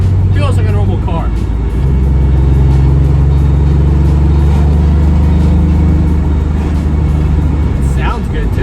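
A project car fitted with a short-throw shifter on its first test drive: a loud, steady low engine drone fills the cabin throughout, with brief voices breaking in near the start and end.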